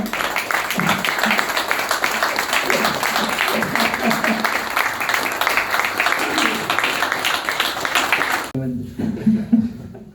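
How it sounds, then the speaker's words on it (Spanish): Audience applauding at a book presentation, loud sustained clapping from a close crowd with voices mixed in, cutting off near the end as a voice speaks alone. "si no, pediría un aplauso, medio grandioso"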